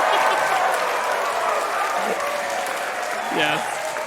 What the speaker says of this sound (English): I got to give him the clap.